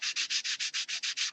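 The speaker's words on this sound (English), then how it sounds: "sanding stick, we'll just sand it all the way around" Wooden window shutters are rubbed with a sanding stick in nine quick, even back-and-forth strokes, a close, steady scratchy rasp with no voices.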